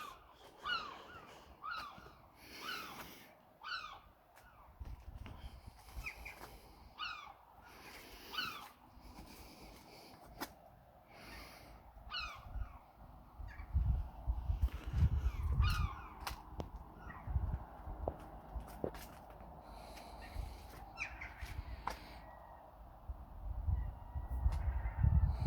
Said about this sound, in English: It's probably the birds you're hearing in the background being annoying.